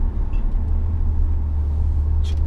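Hyundai Kona diesel car driving along a winding mountain road, heard as a steady, loud low rumble with road noise from inside the cabin and a faint brief squeak near the end.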